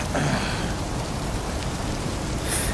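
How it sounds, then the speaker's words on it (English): Rain in a video game pours down as an even, dense hiss of falling water that holds at a steady level, with no voices over it. "It's almost pitch black with this rain and cloud cover."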